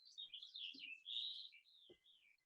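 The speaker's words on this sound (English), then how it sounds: "I have a bird fight right in front of my window, so it's very loud" Birds fighting just outside a window, trading rapid high chirps and squabbling calls with a few short flutters or scuffles, fairly faint and without talk.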